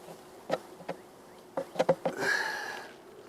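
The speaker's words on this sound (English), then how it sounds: "We're going to shake this frame of bees in this box." Honeybees buzz as a hive frame is shaken into a box, a few sharp knocks and thumps followed by a rising swell of buzzing, close and moderately loud with no talk.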